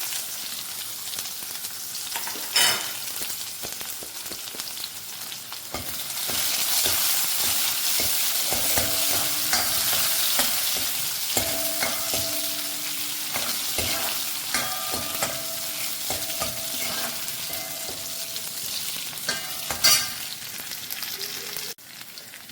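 Shallots and dried red chillies fry in hot oil with a steady, close sizzle, while a spoon stirs and scrapes the pan in short clinks and rattles throughout.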